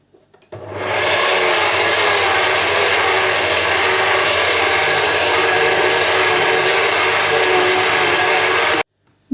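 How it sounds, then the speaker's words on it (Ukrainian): An electric grinder minces zucchini pieces with a loud, steady motor roar that starts abruptly, holds evenly for about eight seconds close up, then cuts off. "А решту це все ріжу на такі кусочки і так само перемелюю."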